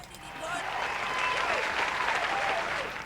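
A burst of applause rises quickly and holds for about three seconds, a dense steady clapping crowd at moderate volume that fades slightly at the end.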